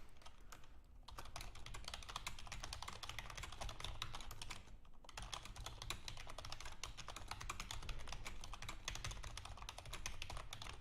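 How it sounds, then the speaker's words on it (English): Someone types quickly and continuously on a computer keyboard, with dense clicking keystrokes up close and two brief pauses. "Let me actually type that to you."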